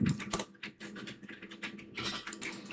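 Fingers type a command on a computer keyboard, a quick irregular run of soft key clicks with brief pauses, close and quiet.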